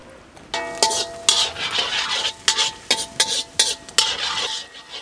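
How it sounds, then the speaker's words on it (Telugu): Garlic dropped into four spoons of hot oil in a kadai, a steady sizzle with repeated scraping and stirring clinks of a spoon against the pan, close and fairly loud. "నూనె వేడెక్కగానే ముందుగా వెల్లుల్లి వేసుకుందాం"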